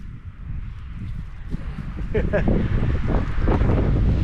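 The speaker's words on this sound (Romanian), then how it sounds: "A început să bată vântul." Gusty wind rumbles and buffets close against the microphone on a farm near wind turbines, growing stronger and louder toward the end.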